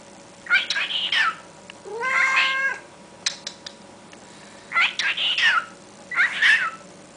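A pet cat meows in several separate bursts near a cockatiel, with one long drawn-out caterwaul in the middle, all close and fairly loud over a quiet indoor hum.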